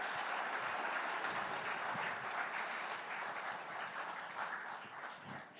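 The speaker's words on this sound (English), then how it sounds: "a round of applause for them" Audience in a hall at an education conference applauds a panel of three women in STEM, a soft, steady patter of many hands at moderate distance, fairly quiet throughout.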